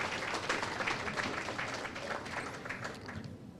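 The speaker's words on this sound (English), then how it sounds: "South Florida, give applause for that too." Faint, scattered applause from a small crowd at the launch of a Florida chapter of the NDC political party, brief and fading over a few seconds.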